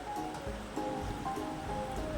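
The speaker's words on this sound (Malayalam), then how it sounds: "നിറച്ച് വെള്ളം ഒഴിച്ച്" Water pours into a pot of tapioca pieces, a soft, steady rushing wash that is faint and even throughout, with no voices.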